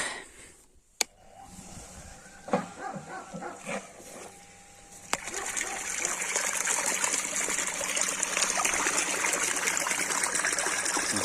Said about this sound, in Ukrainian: водичка біжить.